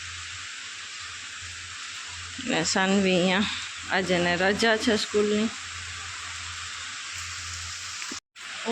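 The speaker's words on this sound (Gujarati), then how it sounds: "એક વરસાદ બંધ નથી થતો" Heavy morning rain keeps falling, a constant broad hiss filling the whole stretch while someone speaks briefly over it.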